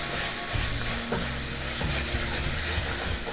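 Paneer is stirred into sautéed vegetables in a hot pan, a loud close sizzle broken by repeated scraping and knocking of a spatula, with no voices.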